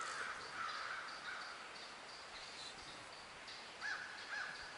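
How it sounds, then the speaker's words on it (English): A few crows caw faintly overhead as they fly past under a blue sky, several short harsh calls spaced out over steady outdoor background hiss. "4 crows flying over"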